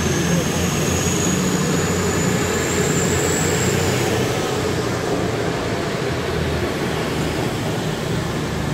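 An East Midlands Railway train departs Nottingham station, a steady loud rumble of engines and wheels with a whining tone that fades, while a person talks over it.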